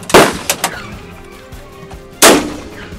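Two loud rifle reports at a long range shooting competition, the first at the start followed by a couple of smaller cracks, the second about two seconds later, each with a ringing tail outdoors; no talk.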